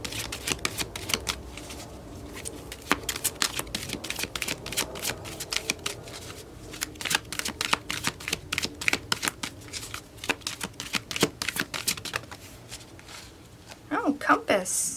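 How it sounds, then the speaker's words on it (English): A deck of tarot cards shuffled repeatedly at close range, with rapid papery riffles and snaps coming in quick bursts. "Here is the deck. Let's go ahead and shuffle it on your energy"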